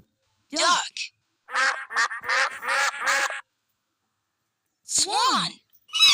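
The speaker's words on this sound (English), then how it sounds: "Duck." A duck quacks several times in quick succession, harsh and nasal, followed by a short pause and another call with falling pitch, close and clear against silence.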